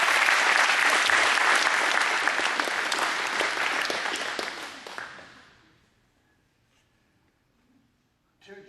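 An after-prom hypnotist show audience breaks into loud, dense applause that holds for about five seconds, then fades away into near silence before a brief sound at the end.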